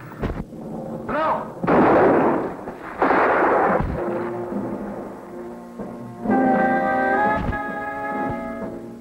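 Gunshots crack in a Portuguese-dubbed Big Valley western episode: two loud, broad blasts close together, then sharper isolated shots, with a voice and a sustained tonal sound rising underneath.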